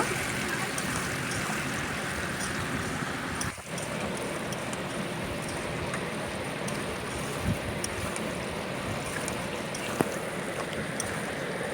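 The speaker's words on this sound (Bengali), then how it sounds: "এইভাবে চার থেকে পাঁচ মিনিটের জন্য ভেজে নেব" Raw mango pieces fry in hot spiced oil for a sour-spicy pickle, a steady dense sizzle that holds without a break throughout.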